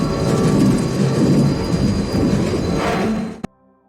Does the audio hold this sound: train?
yes